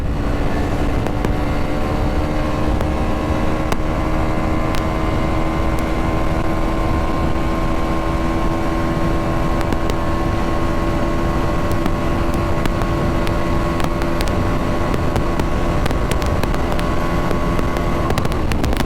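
A motorcycle engine, one of a Duke 390, GT 650 or KLX 230 on a night ride, whines steadily as it pulls through the gears, loud and close with heavy wind buffeting over it.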